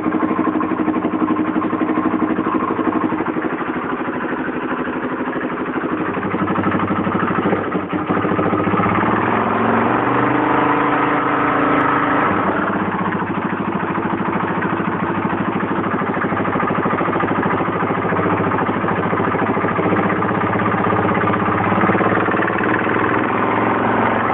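A 2002 Yamaha Warrior 350 ATV, with a broken carburetor float, running steadily after starting, its engine note loud and continuous throughout with a brief dip and shift in tone partway, no talk over it.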